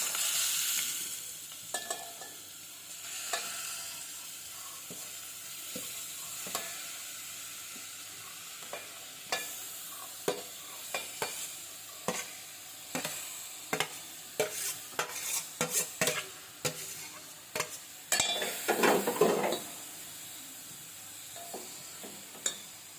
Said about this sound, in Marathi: लोवर ठेवून मग आपण किसलेलं गाजर टाकणार तुपामध्ये।